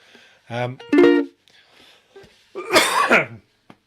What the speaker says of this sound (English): Hopefully I'm not busting your eardrums by coughing.